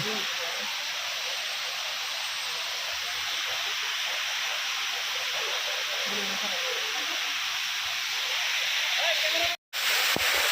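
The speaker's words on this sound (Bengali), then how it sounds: "দেখুন গাইস ঝর্ণার সৌন্দর্য।" A steady, unbroken roar of a jungle waterfall at Kanching, Templer's Park, Selangor, Malaysia, fills the scene for several seconds, broad and hissing, cut briefly by a short dropout near the end.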